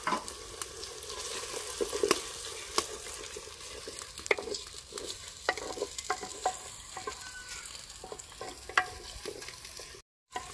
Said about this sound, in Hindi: अदरक और लहसुन का पेस्ट डालने के बाद 2 मिनट तक हमने इसकी भुनाई की है।